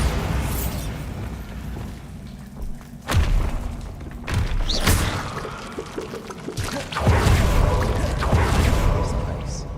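Bombarda blasting spells from Hogwarts Legacy, played in a deserted old place, going off as a string of deep thudding explosions with rushing debris, mixed with other spell effects and a voice calling out.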